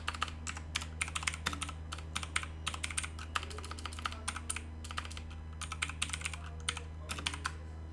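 Someone types C code on a computer keyboard, producing quick irregular bursts of key clicks with short pauses, close and clear over a steady low electrical hum, with no talking.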